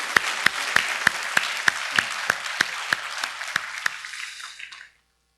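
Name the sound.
congregation applauding the worship singers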